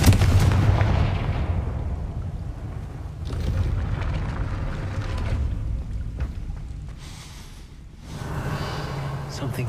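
The Confringo fire spell from Hogwarts Legacy bursts in a goblin mine as a rumbling, booming blast that fades over several seconds, with further dull impacts and heavy low rumble running through.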